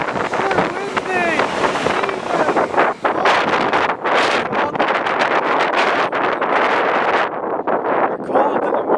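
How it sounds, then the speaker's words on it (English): Strong gusts buffet the microphone on a railway station platform, a loud, continuous roar with surging bursts and brief lulls, while a person's voice is faintly audible among the gusts. "why is it so windy?"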